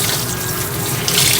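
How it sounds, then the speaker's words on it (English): A tie-dye shirt is rinsed under a running tap, giving a steady loud rush of water into a sink with a brief swell of splashing near the end. "then you wash it with water and squeeze really hard"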